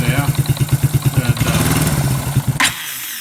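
A Suzuki Quad Runner engine running with the choke off, loud and close, pulsing in a rough uneven idle that smooths briefly before a sharp clatter and then cuts out, with a voice over part of it.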